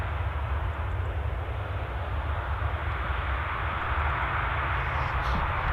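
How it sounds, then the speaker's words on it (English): A KLM airliner departs Manchester Airport, its jet engines producing a steady, loud broadband roar that holds at constant strength throughout, with no voices over it. "So KLM 73, this will make a bit of a racket on the departure."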